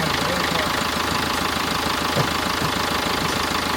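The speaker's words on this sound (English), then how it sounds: "Engines are quiet." New Yanmar 110 boat engines running during a sea trial, a steady, even idling drone that stays close and constant throughout, with no talking.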